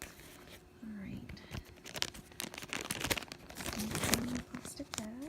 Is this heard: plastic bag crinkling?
yes